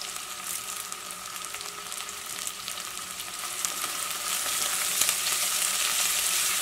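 Soya chunks sautéing in a pan with plenty of onion, green chilli, pepper powder and curry leaves make a steady, dense sizzle throughout that grows slightly louder toward the end, with no talking.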